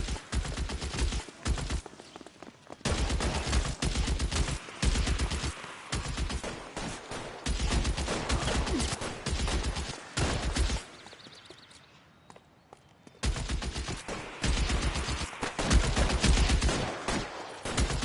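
Dense gunfire crackles in the L.A. Noire video game, sustained loud volleys that pause briefly near the middle before resuming hard.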